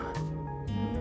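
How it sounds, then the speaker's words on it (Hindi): Dogs bark at night in a village, a couple of short close barks and yelps layered over a steady tonal background. "कुत्ते वैसे भी भौंक रहे हैं"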